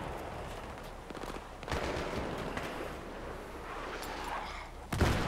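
Gunfire in the video game Battlefield 3 comes as rattling bursts of shots over a steady battle din, and a sharp, loud crack lands near the end.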